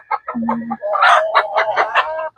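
A chicken clucking loudly and close by, a series of rapid, throaty calls with a brief lower squawk near the start.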